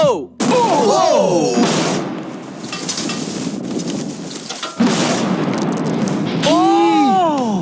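TNT blasting a $10,000 safe: sudden loud booming bursts with crackling, rumbling aftermath, while excited voices cry out around the blasts.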